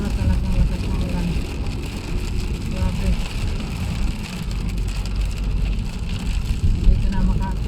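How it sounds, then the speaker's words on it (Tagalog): Heavy rain drumming on a car while driving at night, a steady dense hiss and patter over low road rumble throughout, with a person speaking briefly. "Sobra talagang lakas ng ulan."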